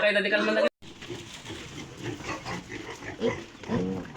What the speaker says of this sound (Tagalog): Nakuha na tayo ng baboy.